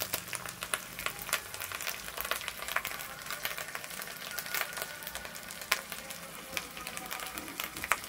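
Spices and chopped tomato fry in a pan, giving a faint, uneven crackle and sizzle broken by scattered scraping ticks as they are stirred.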